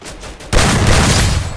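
A grenade goes off in the mobile battle royale game Free Fire, a sudden loud blast that jumps out of quieter game noise and keeps roaring for over a second.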